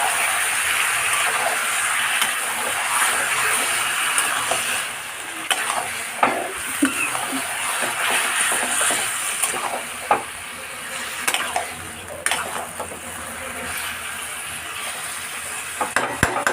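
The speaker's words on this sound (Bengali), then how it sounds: "এবার ভালো করে নেড়ে দেবো।" Meat and onions fry in a pan with a steady, loud sizzle while a spoon stirs and scrapes through them in irregular strokes. No one speaks.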